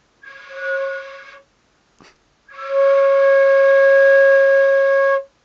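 A beginner plays a breathy, wavering flute tone briefly, stops, then returns as a longer steady note held for a few seconds, played alone.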